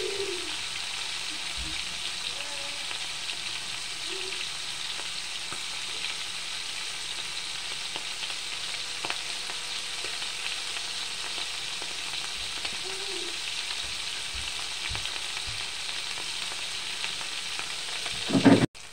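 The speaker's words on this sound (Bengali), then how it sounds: "শুকনো মাছ ভেজে নেব" Dried fish, pre-rubbed with salt and turmeric, fries in hot oil with a steady, even sizzle that holds unbroken, a few soft clinks breaking through, and a brief louder knock right at the end.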